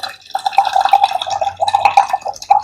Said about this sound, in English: Okay, so I've cracked it. Let me pour the water.